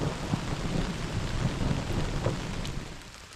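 Steady rain pours down during a thunderstorm at a wilderness campsite, a dense close hiss over a low rolling rumble that holds for a few seconds before easing slightly, with no voices.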